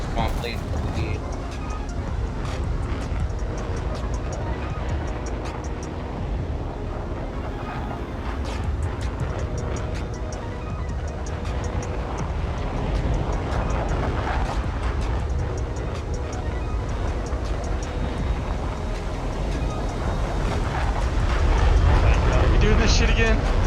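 A small propeller plane engine drones steadily in an air battle video game, a continuous buzzing rumble that swells louder near the end, with people talking over it throughout.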